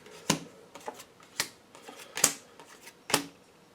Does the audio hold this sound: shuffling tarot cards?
yes